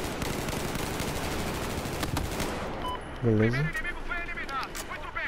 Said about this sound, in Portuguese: Essa aqui é uma arma de rajada, galera. Só que, tipo, se você apertar a rajada dela rápido, ela vira automática